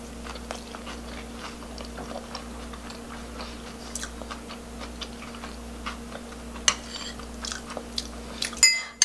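Quiet, close crunching as someone chews a crisp pan-fried lettuce pancake, with small irregular bites over a steady low hum.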